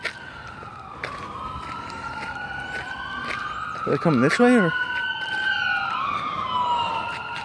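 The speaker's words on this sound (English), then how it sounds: "Ambulances driving by with the sirens on, echoing through the night." Ambulance sirens wail and rise and fall at night on Long Island, New York, sounding some distance away and echoing, while someone briefly speaks over them.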